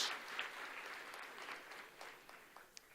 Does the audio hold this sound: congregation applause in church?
yes